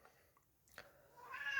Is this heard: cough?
no